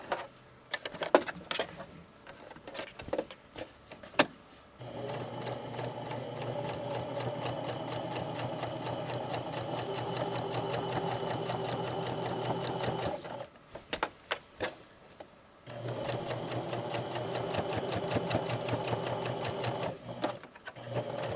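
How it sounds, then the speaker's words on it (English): A sewing machine stitches the corner of a lined patch pocket, with slow individual stitches and pauses at first, then longer steady runs of close rhythmic whirring broken by a brief stop. "when I slow down to do the corner, I'm almost doing one stitch at a time"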